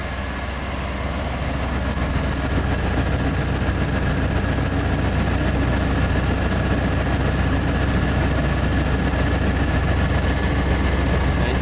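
A motorhome's blower fan runs steadily, a loud, constant whir with a low hum underneath and a faint, pulsing high whine. The sound stays even throughout with no speech.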